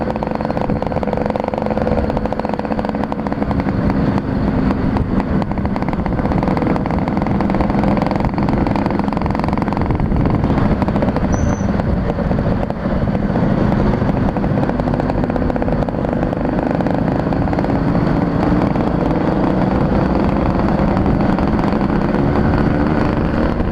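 A steady, loud engine drone runs throughout with a rumbling low end and no speech, from a carburetted motorcycle engine with a Ninja RR intake manifold fitted, idling close by.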